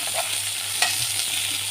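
Eggplant fries in a generous amount of hot oil, a steady close sizzle with a few louder pops and spatters, and no one talking.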